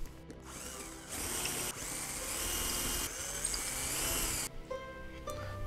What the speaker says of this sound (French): Allez, c'est parti, on perce.